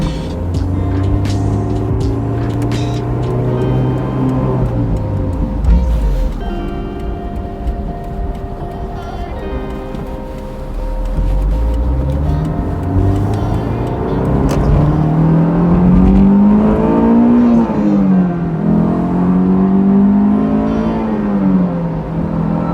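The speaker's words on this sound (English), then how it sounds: "Top it off with the roof on, everything is kind of rattling." Honda S2000 driving with the hard roof on, engine drone rising and falling through gear changes while cabin rattles and road noise fill the interior, loud and continuous throughout.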